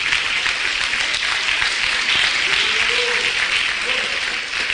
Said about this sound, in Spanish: Fuerte los aplausos para Cristo.